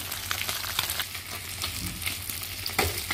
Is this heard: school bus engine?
no